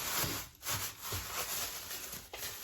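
A plastic carrier bag is handled and rubbed over rising homemade bread dough, producing continuous soft crinkling and rustling close by, with no talk.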